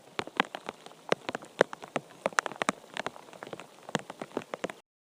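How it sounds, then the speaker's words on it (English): Rain recorded on a mobile phone tucked inside a hood, with irregular taps and pattering drops striking close to the microphone at a steady, lively density and no voices. "here I just stuck my mobile in my hood while it was raining and just recorded that"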